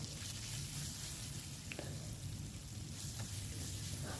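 Tomato softening in a pan with turmeric and salt: a faint, continuous, even sizzle with one or two light clicks of a spoon.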